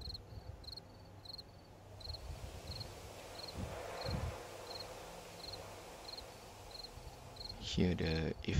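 Evening crickets in the survival game 7 Days to Die chirp in short, evenly spaced pulses, soft and steady over a low background hum, with a brief louder clatter right at the end.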